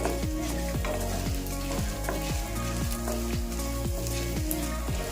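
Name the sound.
frying coriander seeds, cumin and dry red chillies in a pan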